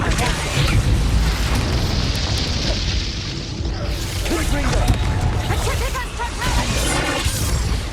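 A Confringo explosive spell blast in Hogwarts Legacy, booming amid a busy wizard duel with other spell effects and voices, loud and continuous throughout.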